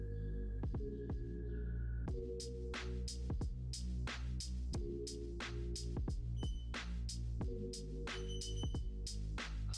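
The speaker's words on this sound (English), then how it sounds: "send the file straight to the embroidery machine and test out our final stitches result together" A computerized embroidery machine stitches out a digitized design, giving a steady mechanical hum under a run of rapid, evenly spaced thumping needle strokes that continue for the whole stretch with no talking.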